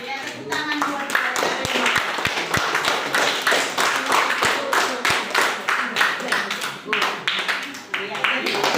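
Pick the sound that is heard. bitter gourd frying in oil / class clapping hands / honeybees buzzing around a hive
class clapping hands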